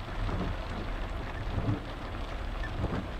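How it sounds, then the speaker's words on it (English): Rain falling in a video game, a steady wash of hiss and patter that holds evenly throughout, with faint low rumbling and no talk. "Why's it gotta be raining?"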